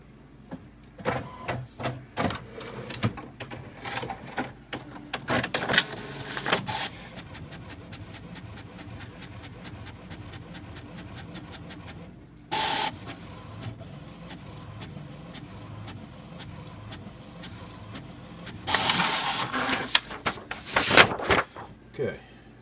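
An inkjet printer printing water slide decals, steady mechanical whirring of the print head shuttling back and forth, with louder feed and clunk bursts near the start and end, close and moderately loud.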